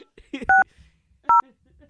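Telephone keypad dialing tones sound as a phone number is entered, with two distinct beeps spaced apart and a brief voice talking between them.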